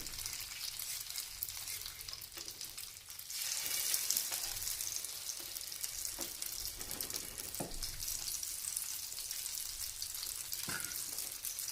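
Omelette batter with onion and tomato frying in hot oil in a pan, a steady broadband sizzle throughout with a few small pops and clinks, no voices.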